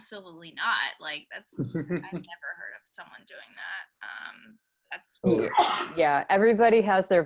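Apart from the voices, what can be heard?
sneeze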